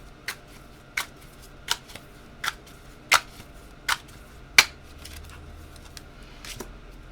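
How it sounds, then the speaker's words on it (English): Tarot cards are drawn from a deck one after another in about seven crisp, evenly spaced slaps and flicks, close and fairly loud over a quiet background with no talking. "So I'm going to draw another card for this."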